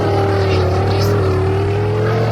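A caravan driven in a homemade video game, a steady droning engine hum holding a constant pitch throughout, loud and close with no break.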